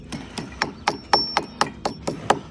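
Deteriorated top courses of a chimney being broken out by hand, a steady series of about ten sharp hammer-like knocks and cracks with crumbling debris, close and loud, with no talk.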